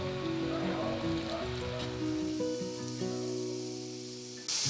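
Bitter gourd slices fry in hot oil for crispy karela, a steady crackling sizzle running throughout with no talk, ending in a brief louder burst.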